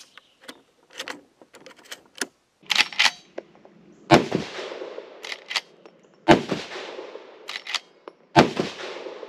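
Shots from a Marlin Model 1894 lever-action rifle chambered in .44 Magnum and firing Federal .44 Special rounds, outdoors: several sharp reports spaced a few seconds apart, mixed with clicks and clacks of handling and cycling the action.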